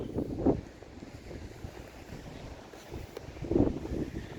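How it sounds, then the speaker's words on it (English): Gusty wind buffets the microphone at a coastal lookout above choppy water on an overcast day, with louder rushing bursts near the start and again toward the end over a steady low roar. "Kind of choppy today because it's a little windy and overcast."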